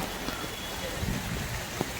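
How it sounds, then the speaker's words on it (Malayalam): Heavy rain falls in a dense, continuous hiss that stays even throughout, with a few faint louder drops and knocks standing out against the wash. "നല്ല മഴ, നല്ല വൈബ്."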